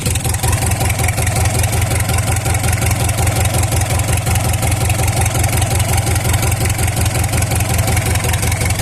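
A Mitsubishi 4D30 diesel engine runs steadily at idle close by, a loud, even low rumble with a rapid regular knock throughout and no pause.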